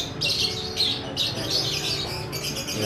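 Lovebirds and canaries at a bird shop chirp in bright, rapid bursts, several calls overlapping close by with brief gaps between phrases and no talk.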